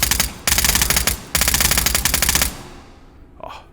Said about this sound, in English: Oh, the MP7 sounds sweet now.